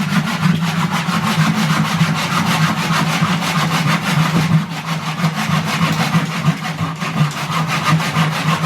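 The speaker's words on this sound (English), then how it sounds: "That's a lot of hand sawing." Wood cut by hand with a saw, loud and close, with steady rapid back-and-forth strokes running without a break and no voices.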